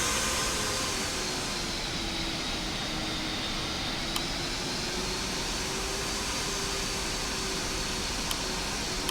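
Airbus A380-800 jet engines in Real Flight Simulator, a steady broadband roar with a faint rising whine while taxiing to the gate, continuous and even throughout with no talk.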